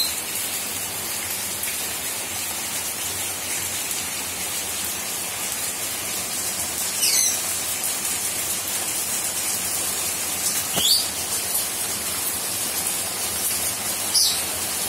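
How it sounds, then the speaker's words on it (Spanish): Heavy rain pours onto a patio with potted plants as a dense, steady hiss, with a few brief nearer drips and splashes standing out now and then. "Qué bien le sienta a las plantas el agua de lluvia."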